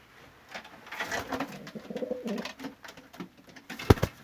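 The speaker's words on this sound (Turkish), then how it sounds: "Gagasının ucunda siyahlık olan kuşları ayrı seviyorum Hasan abi ya" Breeding pigeons coo softly in a series of low, throaty calls, followed by a sharper, louder burst near the end, with no talking.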